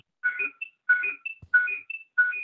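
A mobile phone rings with an incoming call during a planning and zoning commission meeting, four repeating electronic ringtone bursts in a steady rhythm, fairly close and clear with no talk over it.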